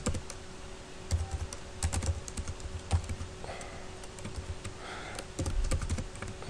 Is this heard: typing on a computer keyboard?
yes